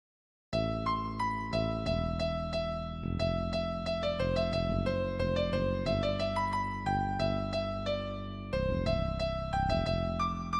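An AI-generated music piece, transformed toward higher tension, plays as steady piano-like notes with a melody over low sustained chords for about ten seconds, with no voices.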